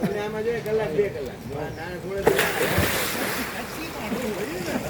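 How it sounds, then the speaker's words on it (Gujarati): A river at Gokarna village where people bathe, with a wash of flowing water and outdoor rumble under many distant, overlapping voices. "મિત્રો આ ગોકર્ણ ગામની નદી છે"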